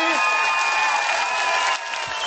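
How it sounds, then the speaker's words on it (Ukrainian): Audience applause at a Ukrainian televised singing contest, steady and fairly loud for a couple of seconds with some crowd noise mixed in. "Для того, щоб проголосувати за Назара, давайте ми підтримуємо його оплесками"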